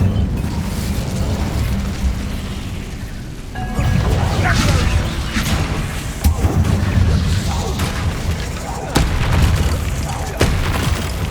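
A fire spell bursts in Hogwarts Legacy with heavy booming blasts and crashing impacts, loud and repeated over a rumbling game soundscape.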